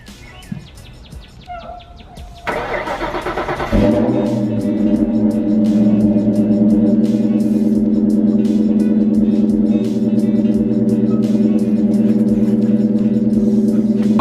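A car engine cranks with a brief whirring starter burst, then catches and settles into a steady loud idle hum that continues, with faint birdsong in the background.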